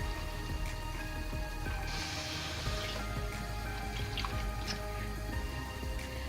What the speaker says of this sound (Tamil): நான் கரைச்சி வச்சிருக்கிற அந்த ஒரு எலுமிச்சங்காய் அளவுக்கு புளி, உப்பு 3 சேர்ந்து இதில் கரைச்சி ஊத்துறேன்